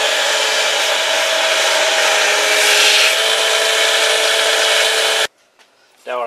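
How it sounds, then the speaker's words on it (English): Steady, loud, close abrasive rubbing as 400 grit sandpaper is run along the edges of a Kydex knife sheath, continuing evenly for about five seconds before stopping abruptly into near silence, with a brief voice at the very end. "I take some 400 grit sandpaper and go over all the edges. Smooth it out as much as I can."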